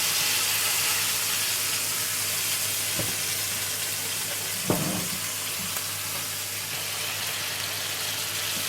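Steady, dense sizzling of a lamb steak searing in a hot frying pan, with a brief clatter partway through and no talking.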